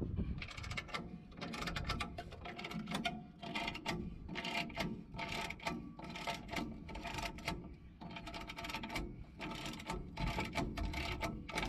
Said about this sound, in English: I'm going to put a 7/8 impact socket on it